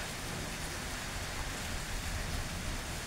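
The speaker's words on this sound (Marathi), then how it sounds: "आमच्या प्लॅनच्या पाठीमागे बघायला पाऊस लागलाय पडायला" Steady unseasonal rain falling over a farm field, a continuous even hiss with no other sounds.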